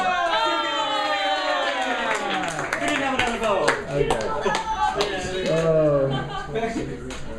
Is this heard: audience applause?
yes